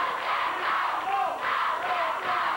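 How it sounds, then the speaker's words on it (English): Crowd at a 1987 Memphis championship wrestling show roaring and chanting, a sustained wash of cheers with rising and falling swells, filling the arena. "The crowd certainly in behind Jeff Jarrett."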